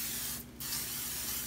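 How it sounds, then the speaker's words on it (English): Cooking spray from an aerosol can misted onto a deep dish pizza pan for Chicago-style pizza, a short close hissing burst of about a fifth of a second amid quiet kitchen room tone. "You want to go ahead and spray it."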